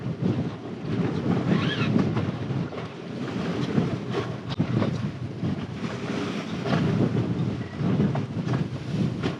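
Wind and waves while out sailing, a steady roar of wind buffeting the microphone over sloshing water against the hull, continuous and fairly loud.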